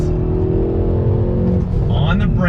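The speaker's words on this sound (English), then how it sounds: "little acceleration test, slow roll, second gear on throttle" Engine of a 2020 Hyundai Veloster N without the Performance Package accelerating hard through the gears from a slow roll, loud and close inside the car, with a faint crackle of exhaust pops near the end.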